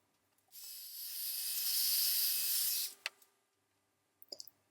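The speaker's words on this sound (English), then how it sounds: "I also give the resin a quick spritz with mineral spirits just to break up some of the colours." A single spray bottle spritzes mineral spirits onto cured resin in one sustained hiss lasting about two seconds, close and fairly loud, followed by a faint click and a few small taps in an otherwise quiet room.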